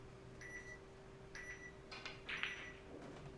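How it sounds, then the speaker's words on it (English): Short high electronic beeps of a pool match shot clock sound in pairs, faint against a steady low hum, followed by a few soft clacks. "There you hear the shot clock beeps."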